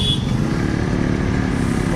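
A Yamaha RX135 five-speed motorcycle engine runs steadily nearby, a continuous low two-stroke drone with a faint high tone above it, no voices.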